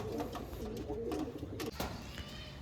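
Andhra Lambadi pigeons in a loft giving soft, rolling coos close by, a few overlapping throaty calls over low background rumble.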